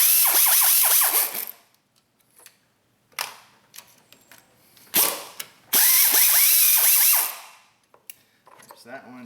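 Ratchet wrench loosening 13 mm bracket bolts on a Caravan/Town & Country minivan's lower intake manifold: two long, loud bursts of rapid ratcheting clicks separated by quieter taps and fiddling, close to the microphone with no talk.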